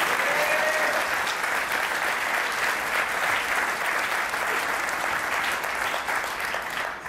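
A comedy-show audience applauds, filling the space with dense, loud, continuous clapping that stays steady from start to finish, with no speech.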